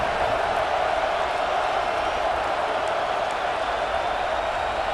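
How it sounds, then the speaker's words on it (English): Steady, dense crowd roar from a college football video game stadium, LSU versus Florida, holding at an even level throughout with no distinct peaks. "The crowd, bro, it's not even that loud in here."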